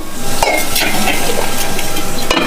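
Ladle stirring mango gojju in a pan over low heat, a steady close scraping and bubbling with soft sizzle, punctuated by a couple of sharp clinks of the ladle against the pan.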